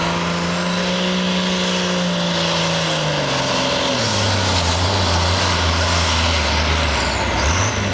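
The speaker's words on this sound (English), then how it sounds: "The RPMs are going to come up now, and the black smoke will be flying." An Oliver 2150 tractor engine roars at a truck and tractor pull, loud and continuous, its pitch holding then dropping and settling lower as the revs change, with no speech.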